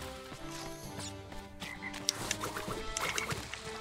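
Frog croaks from Crash Bandicoot 3: Warped, a video game, sounding several times over busy game music and effects, with rhythmic low croaks through the clip.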